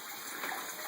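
Water from a python hose rushes steadily into a 75-gallon aquarium, a soft, even gushing hiss heard alone.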